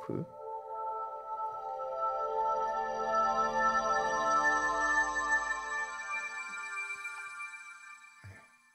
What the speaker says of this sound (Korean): 신세사이저 소리들 중에서도 우리가 배경음으로 어, 쓸수 있을 만한 그런 소리들 텍스처, 사운드스케이프